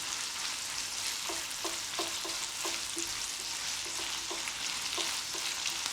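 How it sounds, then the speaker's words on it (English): Beef mince browns in a hot pan under a dense, constant sizzle, with a spoon scraping and stirring in a rapid series of short strokes throughout. "being mince, it cooks very quickly, but we're just browning it for now"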